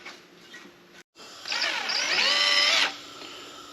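A power drill bores holes in car body metal during rust repair, one whining burst of about a second and a half that rises and bends in pitch before stopping, alone against a quiet workshop background.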